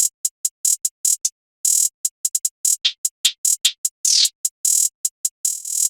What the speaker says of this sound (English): And I added these hi-hats, which seem a little complicated, but it's just a bunch of rolls.